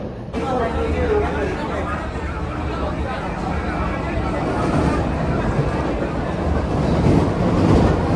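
An AC local train on the Sealdah–Ranaghat line runs with a continuous rumbling roar while passengers chatter and murmur nearby throughout.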